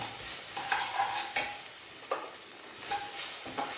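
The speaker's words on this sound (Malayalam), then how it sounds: "ഫ്രൈഡ് റൈസിന് നമ്മൾ അരി ഇടുമ്പോൾ പൊട്ടില്ലേ, അതുപോലെ ചാമ പൊട്ടുന്നുണ്ട്." Millet grains popping and crackling as they fry in a pan for an egg biryani: scattered sharp crackles over a steady frying hiss, close by, with no voices.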